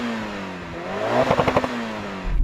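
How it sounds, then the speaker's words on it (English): A Mitsubishi Evo 6 engine revs once, rising to a brief peak with a slight rasp and then falling back, heard up close with no one speaking. "Now, finally, we come to the Mitsubishi Evo 6."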